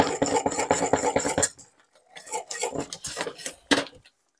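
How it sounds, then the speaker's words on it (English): Garlic cheese grits stirred in a pot in a home kitchen, giving repeated scraping and knocking of a utensil against the pot, busy at first, then a pause, then a few lighter strokes and one sharp clack. "I'm going to step over here and stir these grits."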